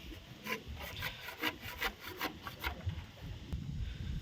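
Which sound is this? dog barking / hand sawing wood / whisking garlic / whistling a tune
hand sawing wood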